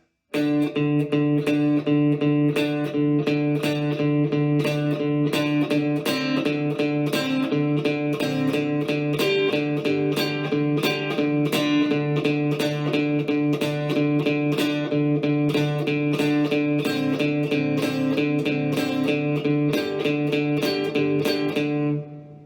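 A fast, continuous guitar riff with rapid picked notes, played briskly and evenly for over twenty seconds with no talking.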